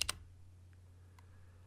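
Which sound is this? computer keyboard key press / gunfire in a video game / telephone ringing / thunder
computer keyboard key press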